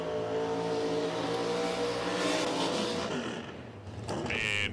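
Drag race cars at Shadyside Dragway launching side by side down the strip, a continuous loud engine roar that rises and holds before fading slightly, with crowd and announcer noise blended underneath.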